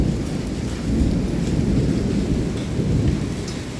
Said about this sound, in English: Oh god, it's hailing. We haven't had hail in so long.